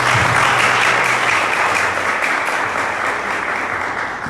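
A church congregation applauds during a sermon, steady dense clapping that holds loud throughout and eases slightly toward the end.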